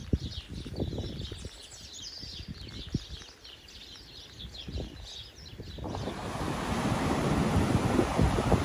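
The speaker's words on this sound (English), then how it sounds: "Some big stormy waves from the east" Rough easterly storm waves crash and churn steadily on the shore at Lyme Regis while gusting wind buffets the microphone, the roar of the waves swelling louder toward the end.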